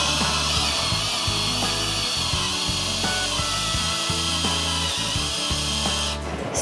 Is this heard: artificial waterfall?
no